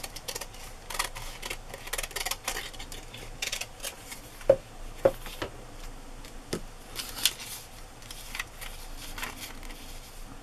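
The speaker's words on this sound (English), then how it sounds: "I don't know why I'm using my giant scissors to cut this." Giant scissors snipping through paper for a glue book collage, a series of close, crisp cuts and rustles at an uneven rhythm, with a few sharper clicks in the middle.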